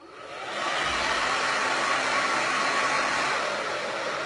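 Hair dryer blowing steadily on freshly applied fiber-lash mascara, a loud continuous airy whoosh that starts within the first half second and holds evenly to the end, with no talk.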